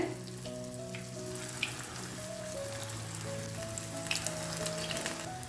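Wheat flour breakfast batter frying in hot oil over a high flame, a steady bubbling sizzle with faint crackles and a few small clinks, close and alone with no talk.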